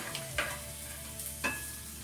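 Onion goes into hot oil in a pan, giving a low steady sizzle with a couple of soft scraping stirs and clatters, close and fairly quiet.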